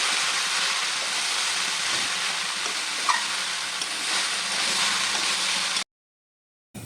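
Vegetable curry with cauliflower, peanuts and peas sizzles and fries steadily in a pan as it is stirred, a continuous close crackle that cuts off abruptly near the end.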